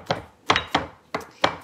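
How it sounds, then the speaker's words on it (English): Fresh herbs such as parsley are chopped by knife on a wooden board in a home kitchen, five or six sharp, close thunks in an uneven rhythm with short pauses between strokes, no talking. "I like chopping."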